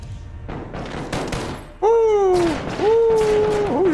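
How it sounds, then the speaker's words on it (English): Gunfire in the Call of Duty: Modern Warfare campaign mission The Wolf's Den, with dense bursts of shots layered with a sliding whining tone, fairly loud and close. "Who are you shooting at, bro?"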